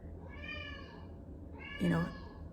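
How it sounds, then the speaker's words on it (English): A house cat, upset and adjusting to a new home, gives two drawn-out meows close by, the second louder and more strained, over a faint room background. "My cat is upset because he's still adjusting to the new place"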